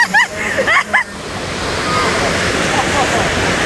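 Water spraying and rushing at the Earthquake attraction in a theme park, a loud steady wash of spray that builds and holds after brief excited voices at the start.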